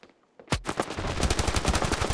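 Rapid automatic gunfire in the mobile shooter Standoff 2, bursting in loudly after a near-silent start and continuing as dense, crackling volleys with no talk over it.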